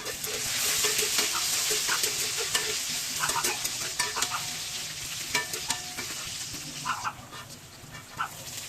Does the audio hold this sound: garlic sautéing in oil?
yes